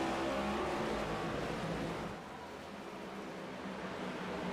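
A pack of stock cars in a racing video game at North Wilkesboro roars under acceleration at the green flag, a dense, continuous engine drone that dips slightly midway and then swells again.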